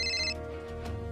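A phone rings with an incoming call, a bright electronic tone pulsing in short repeated bursts with a steady hum beneath, heard alone at moderate loudness.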